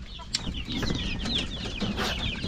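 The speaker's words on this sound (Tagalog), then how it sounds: "Yung mga decaled white ko na alagang manok." Decaled white chickens clucking while they eat, several birds close by with overlapping short clucks and pecking over steady farmyard ambience.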